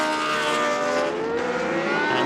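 A Williams FW07C Formula One race car, a later model of the FW07, screams past at a classic historic race, a loud, high-pitched engine note whose pitch sweeps as it goes by.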